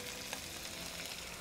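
Minced garlic sizzles in a pot with potatoes for a lemon butter chicken dish, a steady soft hiss of frying, quiet and continuous.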